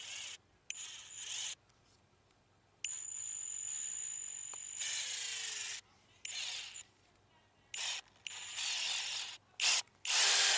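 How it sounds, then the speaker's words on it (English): A cordless drill whirs in several short bursts, starting and stopping repeatedly while drilling into wood, close and clear in a quiet room. "You can pre-drill a hole, or you can just drill your own hole, and it goes like this."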